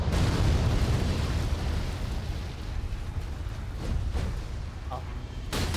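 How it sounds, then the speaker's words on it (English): Explosive blast from a boss's blade attack in the Elden Ring: Shadow of the Erdtree video game, a loud broadband boom swelling at the start and rumbling on under continuous speech, with further sharp bursts near the end. "I messed up timing because I've got like explosion in his blade"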